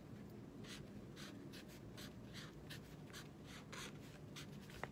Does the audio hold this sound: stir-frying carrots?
no